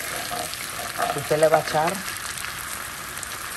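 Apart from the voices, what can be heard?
margarine and garlic frying in a pan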